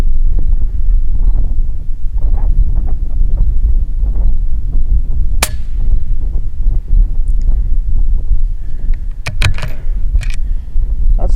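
Steady outdoor wind buffets the microphone on an open hillside at a rifle range, a continuous low rumble and hiss with occasional faint clicks and knocks over it.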